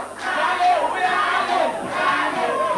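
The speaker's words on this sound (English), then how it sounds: "The crowd chanting Charles's name, but Master remaining strong" A large crowd roars and chants together at a televised 2009 boxing fiesta, a loud, continuous wall of voices swelling in rhythmic waves close around the listener.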